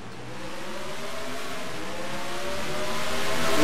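Race cars roaring together on a green-flag restart in NASCAR Racing 2003, a dense, steady engine drone that builds and swells louder toward the end, with no voices over it.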